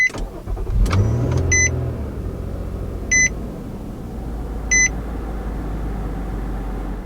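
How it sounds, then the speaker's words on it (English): A 2021 Nissan Murano Platinum starts with a brief cranking whir and catches into a smooth, steady idle, while a chime beeps three times at even intervals from the dashboard, nearby and with no talking. "Now start up the Murano, put your foot on the brake,"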